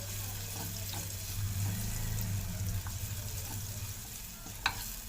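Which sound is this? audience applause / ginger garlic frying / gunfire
ginger garlic frying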